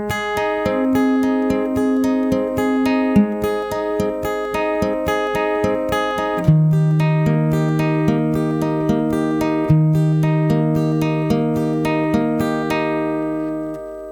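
An acoustic guitar strums the first four bars of the verse of a song, with a steady even rhythm and changing chords, close and clear with no talking.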